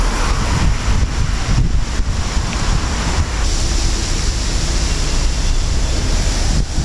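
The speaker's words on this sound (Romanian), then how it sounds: "Rafale de vânt." Storm wind gusts on the Dâmbovița riverbank, a loud, continuous broadband roar with surging rushes and buffeting against the microphone throughout, no voices.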